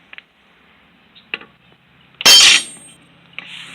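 A hammer strikes a rivet on the tip of a 24-inch Forester chainsaw bar. A few light metallic taps are followed by one loud, sharp ringing smack, then a faint tap and low handling noise.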